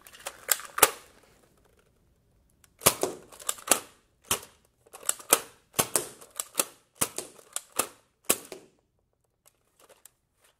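A Nerf dart blaster fires through a speed timer, producing a series of sharp, close snapping clicks in irregular bursts, with quiet gaps between the shots.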